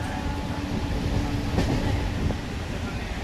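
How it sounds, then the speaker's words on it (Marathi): A fast Mumbai local train rumbles steadily at speed, heard from inside a carriage, with a constant low roar and faint rattling clicks. "एकदम फास्ट ट्रेन आहे"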